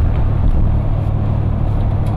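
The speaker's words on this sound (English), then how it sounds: "That is the sound of 55 miles an hour on I-10." Steady loud low rumble and road roar from inside the cab of a vehicle fitted with an aftermarket muffler, cruising at 55 mph on Interstate 10, droning evenly without change.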